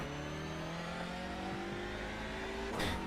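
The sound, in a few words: racing car engines revving in iRacing video game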